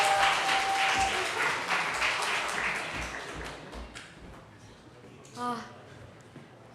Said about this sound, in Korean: 새가족 조교님 나오셔서 새가족 발표해 주실 때 박수로 맞아주세요.